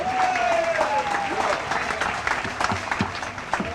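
Party supporters applaud the General Secretary with a big round of clapping and crowd noise that runs throughout, mixed with a whistle-like tone and voices underneath.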